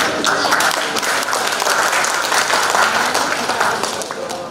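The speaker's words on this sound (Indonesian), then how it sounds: "Sekali lagi mohon tepuk tangan" Sustained audience applause following a presentation at a regional government benchmarking meeting, dense steady clapping that holds loud throughout and eases slightly at the end, with no voices over it.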